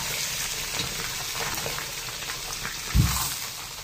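A fish head drops into a hot pan with a single heavy thud near the end, over a low crackling hiss of oil that runs quietly throughout.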